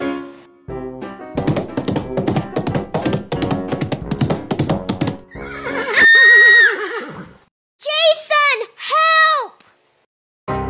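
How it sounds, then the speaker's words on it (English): A farm horse with a ventricular septal defect neighs loudly and close by in two clear bursts, a long whinny and then two quick calls, after a run of rhythmic tapping. "And I love my favorite horse, Beatrice."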